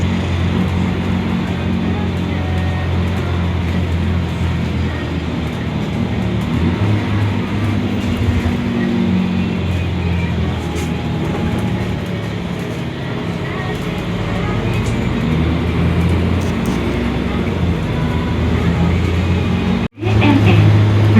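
A TransJakarta bus on Corridor 9A rolls along at a steady pace, with a loud and continuous engine rumble and road noise heard from inside the cabin and a faint thump near the end.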